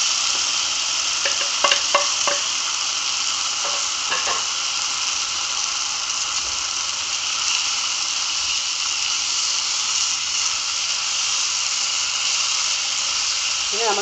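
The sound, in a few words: beef frying in pan, Kerala style beef fry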